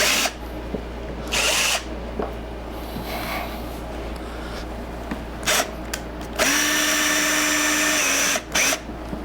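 A power drill backs a screw out of a big sign under repair, with several close, loud bursts of whirring spread across the stretch and a sustained higher-pitched run near the end, no talking.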